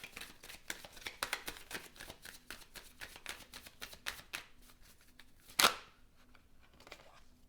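Tarot cards being shuffled for a love reading make quick papery riffles and soft flicks in an uneven rhythm, close and quiet, with one sharp snap near the end.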